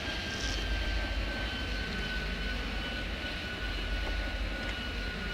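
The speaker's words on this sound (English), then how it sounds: "All right, we got some planes off." Airliners such as A320s and an A319 taking off in the airport game Airport Madness 3D, a continuous loud roar of jet engines with a steady whine held throughout.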